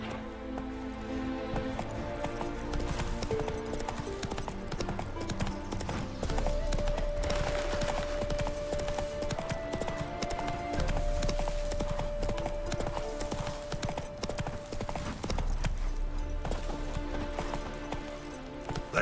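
A horse gallops in The Witcher 3, rhythmic clip-clopping hooves under a continuous bed of game music with a sustained tone, steady throughout.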